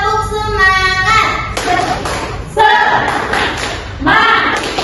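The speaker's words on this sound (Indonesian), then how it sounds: "1, 2, 3, tepuk semangat" A classroom of elementary school children does the rhythmic 'tepuk semangat' clap chant, with sharp bursts of clapping in patterned groups and children's voices chanting between them.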